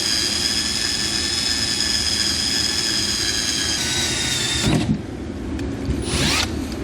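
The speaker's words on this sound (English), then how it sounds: "I'm going to use the drill bit, drill a pilot hole first" A power drill whines steadily while a drill bit bores a pilot hole in the bed of a 2021 Chevrolet truck, then stops abruptly, leaving clunks and a short burst of drilling near the end.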